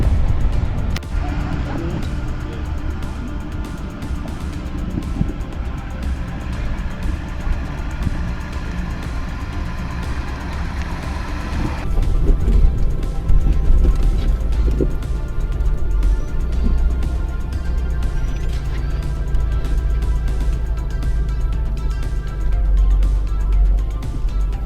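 A diesel Jeep Gladiator crawls slowly over off-road terrain at Tuttle Creek, its engine rumbling steadily and close by for the whole stretch, growing louder and heavier partway through.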